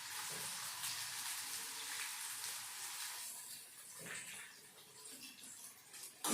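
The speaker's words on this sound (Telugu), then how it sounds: "ఈ ఉల్లిపాయ ముక్కల్ని మనము బ్రౌన్ కలర్ వచ్చే వరకు వేయించుకోవాలండి" Onion pieces fry in hot oil for an egg onion masala, making a dense, close hiss of sizzling that is strongest at first and eases slightly toward the end, with no talking.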